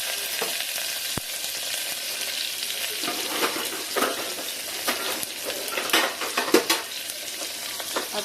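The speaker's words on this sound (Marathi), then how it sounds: "आता गाईज आपण जिरा ॲड करूया तेलामध्ये। हिंग, हिरवी मिरची, कढीपत्ता," Cumin seeds, asafoetida, green chilies and curry leaves crackle and sizzle in hot oil for moong dal khichdi, a steady hiss broken by sharp pops and stirring scrapes, close and alone.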